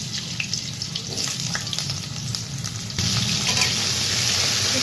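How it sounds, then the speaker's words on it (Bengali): Potato and papaya pieces hit hot oil over a dry red chilli tempering for a Bengali dalna, setting off a steady broad sizzle close by that swells louder partway through, with no talk. "ফোড়নটা হয়ে গেছে, তা আলু পেঁপে ছেড়ে দেব।"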